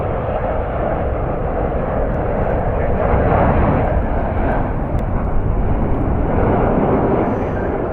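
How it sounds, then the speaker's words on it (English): A United Boeing 777 arriving at Washington Dulles from London Heathrow gives off a loud, continuous low jet rumble that holds steady throughout, with no voices present. "United Flight 919, it's another 777 inbound from London Heathrow."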